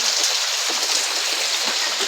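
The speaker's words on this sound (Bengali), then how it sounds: "সকাল থেকেই বৃষ্টি হচ্ছে" Steady rain pouring down on a wet morning, a dense even hiss with a patter of drops on surfaces, loud and unbroken with no voices.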